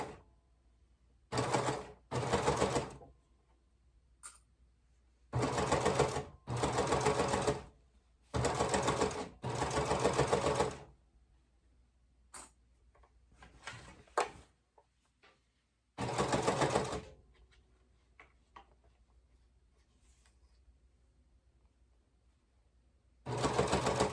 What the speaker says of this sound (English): we want to make sure that when we get down to the accent band, we're not messing up the serge stitch.